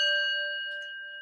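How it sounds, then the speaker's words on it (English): A single metallic gong-like strike with steady ringing partials that fade slowly over about a second, heard alone. "where's my gong?"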